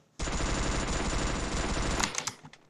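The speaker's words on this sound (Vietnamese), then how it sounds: "Mình nghe như kiểu nó lấy khẩu súng tiểu liên ấy." A rapid burst of automatic fire from a Vector submachine gun in a video game, a continuous fast rattle of shots for about two seconds that cuts off sharply and then echoes away.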